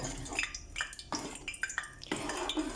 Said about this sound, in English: we're going to give this kitchri a stir